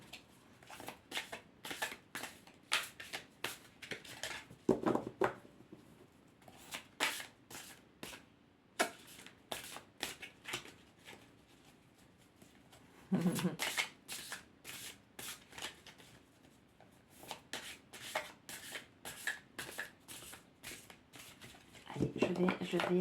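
Tarot oracle cards being shuffled by hand in repeated crisp riffling bursts, close and clear, while someone speaks French between and over the shuffles.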